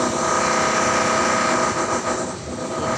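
Kallang MRT train in Singapore runs along the line, a loud continuous rumble and whine of wheels and motors with a steady mechanical hum, close and filling the whole moment.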